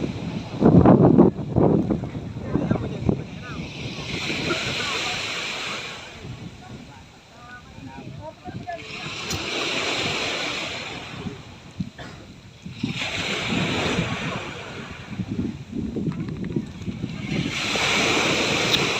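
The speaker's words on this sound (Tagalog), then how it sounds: "Malakas ito sa laot guys, malakas ang hangin." Strong wind buffets the microphone out on the open sea, over rolling sea and surf, rising and falling in long gusts.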